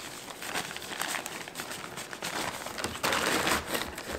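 Packaging around a new Tamron 24mm f2.8 Di III OSD mirrorless lens is crinkled and torn open, a steady close-up rustle of plastic and paper that keeps going and gets a little louder near the end.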